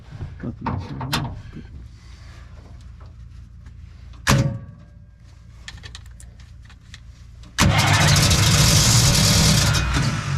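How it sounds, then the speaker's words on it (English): A WW2 Jeep with a suspected stuck piston is cranked in a workshop: faint clunks and shuffling, a sharp knock midway, then the engine suddenly roars into a loud, steady running drone that continues to the end. "My last ditch was to start the engine and hope that that oil pressure pushed the piston out"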